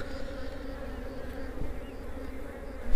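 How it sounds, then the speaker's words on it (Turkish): Honeybees buzz in a dense, steady hum close by as they are shaken from a frame into a hive box during colony splitting, fairly quiet and unbroken, with no talk. "Buradan biraz arı çırpacağım bunun içine."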